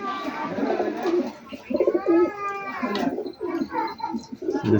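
Rajshahi Giribaz pigeons coo repeatedly at close range in a domestic loft, soft rolling calls overlapping with rustling and other birds, a steady stream of cooing through the whole stretch.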